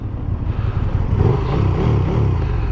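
A KTM SuperDuke 1290 GT motorcycle engine revs up close with a deep, throaty roar, rising and holding steadily loud with no talking.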